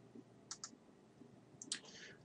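Several sharp computer mouse clicks on a Windows 8 desktop: a quick double click, a pause, then another close pair followed by a brief soft rustle, all faint and with no talk.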